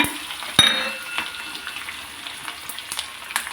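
Hot oil crackling and sizzling as chana dal, urad dal, dried red chillies and garlic go in for a tempering, with sharp pops and spits over a soft, steady fry.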